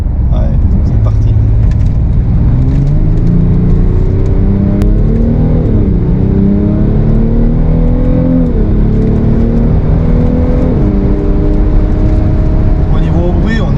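A BMW X6 M50d E71 diesel SUV engine pulls under acceleration, a low steady drone with gently rising and falling pitch sweeps, heard from inside the car alongside ongoing conversation.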